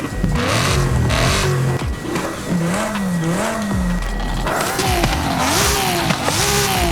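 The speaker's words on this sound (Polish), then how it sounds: "Standardowy silnik chyba zostawię, ładnie brzmi." A stock BMW M4 engine in Forza Horizon 5 revs loudly up and down repeatedly, pitch rising and falling in waves, with a steady mechanical drone underneath.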